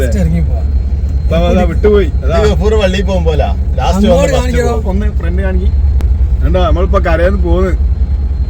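A vehicle drives off a jankar ferry, its engine a steady, loud low rumble throughout while people talk continuously over it.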